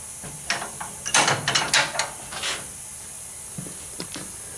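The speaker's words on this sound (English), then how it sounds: "watch them 2 pins. They're going in and out of these holes" Leg wrestling blades mechanism with two pins moving in and out of holes, a series of sharp metallic clicks and clunks in irregular bursts, near and fairly clear over a quiet background.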